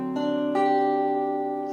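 A rich dominant 11 chord sounds on a keyboard, re-struck a moment later, then held and ringing steadily without any talking.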